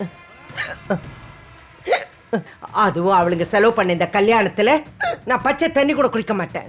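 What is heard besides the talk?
hiccups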